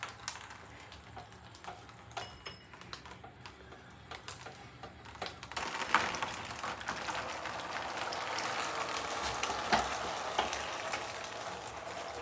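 Engine oil from a junkyard GM 6.0 LQ4 V8's bottom end pours and splatters onto the ground with a continuous hissing, sizzling rush that swells louder midway and keeps going to the end.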